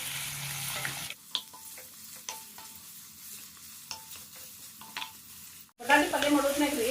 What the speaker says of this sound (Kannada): ಉದ್ದುದ್ದಂಗೆ ಕಟ್ ಮಾಡಿದ ಉಳ್ಳಾಗಡ್ಡಿ ಮತ್ತು ಅದ್ರ ಜೊತೆ ಕರಿಬೇವು ಹಾಕಿ ಚೆನ್ನಾಗಿ ಎಣ್ಣೆಗೆ ಫ್ರೈ ಮಾಡಿರಿ